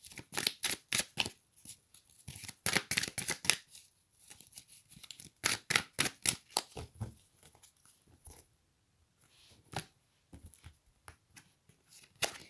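Oracle cards riffle and slap in quick bursts of crisp papery flutter, close and fairly loud, with pauses between shuffles and a few softer single snaps as cards are drawn near the end.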